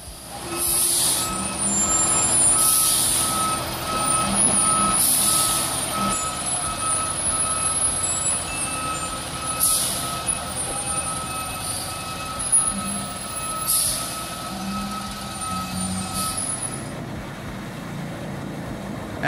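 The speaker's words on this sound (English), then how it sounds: "The overloaded Oshkosh truck is climbing a hill, but due to its excessive weight, it begins to roll backward," An overloaded Oshkosh truck rolls backward down a hill. Its heavy engine rumbles steadily while reversing beeps repeat in regular bursts, with hissing air brakes and clanking equipment close by.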